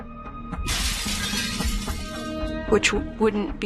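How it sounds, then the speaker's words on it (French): A glass window pane shatters with a sudden bright crash, followed by scattering tinkles of falling shards and a few sharp chimes near the end, with faint background voices. "Apparemment, la vitre a été brisée de l'intérieur."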